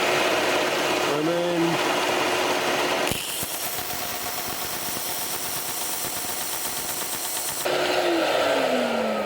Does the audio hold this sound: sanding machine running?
yes